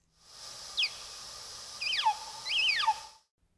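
Several quick descending chirps and warbling whistles, high-pitched and clear, in three short bursts over a faint hiss, with no voices.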